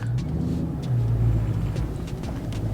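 A 2019 Dodge Charger Scat Pack SRT pulls away on a test drive, its engine rumbling low and steady with a heavy exhaust note rising slightly mid-way, heard from inside the car.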